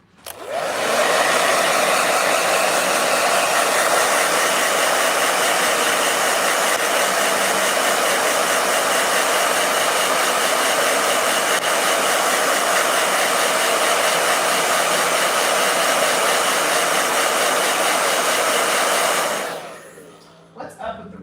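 A hair dryer blows steadily and loudly for about twenty seconds at close range while paint is dried on a hair journal page, then cuts off abruptly.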